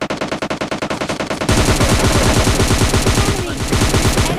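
Thompson submachine gun firing in PUBG Mobile Lite, loud rapid bursts of automatic gunfire, first a sharp rhythmic stream of shots and then a denser, continuous barrage.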